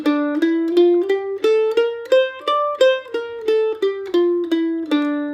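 A mandolin picks out a D natural minor scale note by note, rising then falling in a steady rhythm, each note bright and plucked with a short decay, played solo.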